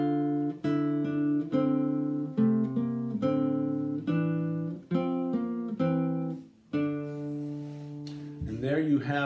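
Two-voice early polyphony on guitar, a quicker upper melody moving two or three notes against each sustained bass note, played alone, clear and close in a steady flowing rhythm.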